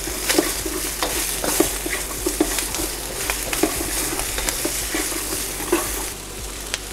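Vegetables for chicken with cashews stir-fry in oil in a wok, a constant loud sizzle broken by repeated scraping and tossing strokes from a spatula, close and with no talking.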